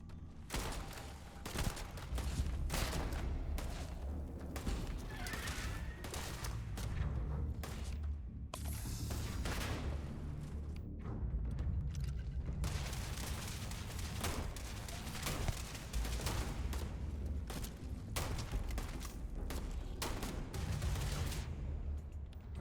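Gunfire in the video game Starfield crackles in repeated bursts of rapid shots with thuds and whooshes, dense and continuous throughout, with no talk over it.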